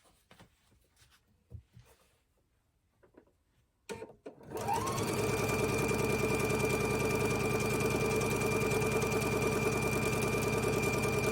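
Home sewing machine chain piecing quilt fabric pieces, running steadily and loudly for several seconds with a fast even stitching rhythm after a few quiet handling sounds.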